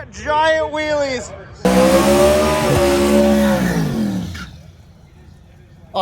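Drag racing car at drag week making a pass: a loud, sustained engine roar that launches suddenly, holds for a few seconds with the pitch easing down, then cuts off, after a brief earlier rev with talk over it.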